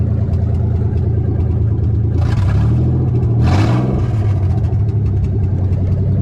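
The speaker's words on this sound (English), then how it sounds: "It's super loud because we have no exhaust. We're just open downpipe right now" A Nissan 300ZX idles loud and rough with an open downpipe and no exhaust, close by, then gets two quick revs that swell and drop back to a lumpy idle.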